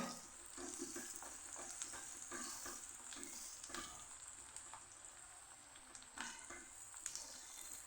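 Onion with garlic-ginger paste fries in a pan, a soft steady sizzle broken by repeated scraping stirs and light clinks.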